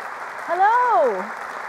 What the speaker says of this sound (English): please give a round of applause to our host for this evening